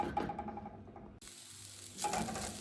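Moong dal roasting dry in a pan, a faint soft sizzle and scraping stir, with a brief quiet break midway before the rustling resumes slightly louder near the end.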